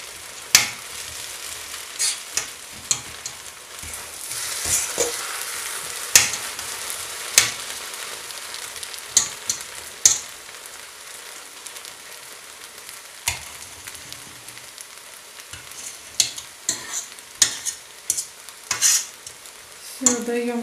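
Kaiserschmarrn pancake batter sizzles steadily in a hot pan while a fork scrapes and taps against it in irregular stirring strokes, breaking it up.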